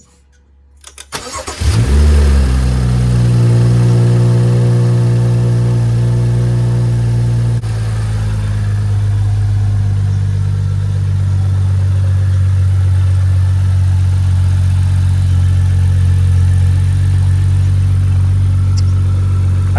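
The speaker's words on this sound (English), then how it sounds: "Now let's start it and make sure it idles good." A BMW F30 engine cranks and catches, then settles into a loud, steady idle after an oil catch can install, holding a constant low hum close by with no one speaking.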